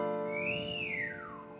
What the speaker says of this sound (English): and he whistled